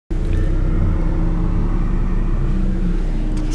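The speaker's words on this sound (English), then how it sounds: "Stupid car came and blocked me." A car rumbles steadily close by on a university campus, a continuous low engine drone that stays loud throughout with no clear pass or stop; no talk.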